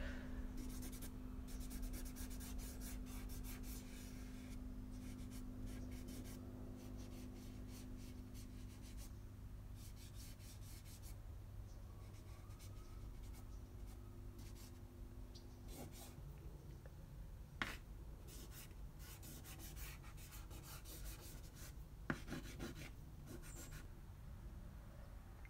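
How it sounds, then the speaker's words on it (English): Charcoal lines on paper being blended with a fingertip for shading, giving a faint, soft continuous rubbing and scratching close by, with a few brief ticks and no talking. "Now I'm going to use my finger to add some shading just by blending some of the charcoal lines, not all of them, but just where there would be shading"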